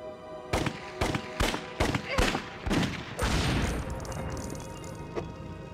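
Bursts of gunfire in the LEGO Indiana Jones game: six or seven sharp, loud shots in an uneven volley, followed by a longer rumbling blast that fades into a low wash.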